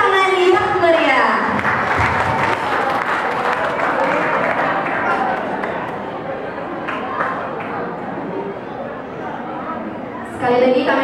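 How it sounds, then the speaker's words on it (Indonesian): An audience gives lively applause at a parish choir competition, with a sustained crowd clapping that fades slightly midway before a brief swell at the end, accompanied by chatter and voices. "Mari kita berikan tepuk tangan yang meriah."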